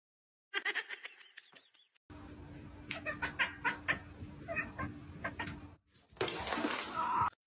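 A cat lets out several short meows and chirpy, strained vocal calls, near and fairly clear, with a steady background hum and a rustly noise burst at the end.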